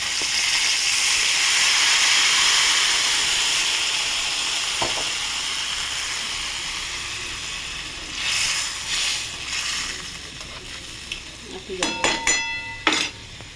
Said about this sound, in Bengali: দেখুন বন্ধুরা, মাছটা আমার ভাজা হয়ে গেছে। এবার আমি জল ঢেলে দেবো।